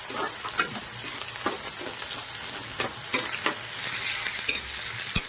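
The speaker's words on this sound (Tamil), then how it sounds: "வெங்காயம் போட்டு கலக்கி வைக்கலாம்." Chopped onions stirred while frying in a pan for a pumpkin fry, a steady bright sizzle with intermittent scraping taps of the spoon, close and continuous with no talking.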